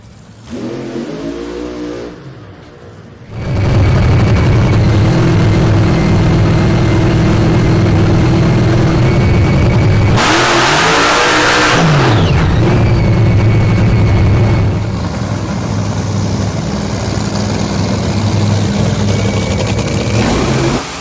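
NHRA Championship drag racing car at the US Nationals, engine roaring loud and close as it revs and accelerates, a sustained heavy blast with pitch swings lasting most of the stretch, crowd-track ambience beneath.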